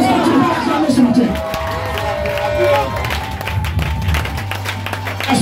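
A church congregation cheers and claps together, a lively crowd roar with scattered shouts and applause that rises and falls, with a voice speaking over it.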